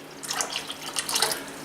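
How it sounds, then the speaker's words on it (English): Water is poured lightly into yeast water while making strawberry and banana mead, giving a brief, close, soft trickling splash that lasts just over a second. "I'm just going to go and pour it lightly."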